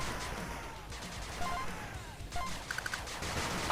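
Rapid bursts of machine gun turret fire in the retro strategy game 8 Bit Armies, crackling through a busy battle mix with explosions and small electronic blips, moderately loud throughout.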